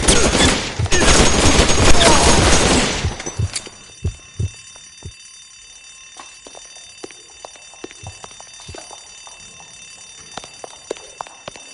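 Heavy gunfire in L.A. Noire roars as a sustained loud fusillade for about three seconds, then gives way to scattered sharp shots and clicks over a ringing, tonal background.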